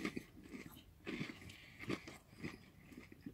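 Fish and chips eaten at a Leicester fish-and-chip shop, close, quiet crunchy bites and chewing in a loose rhythm of a few bursts per second, with no talking.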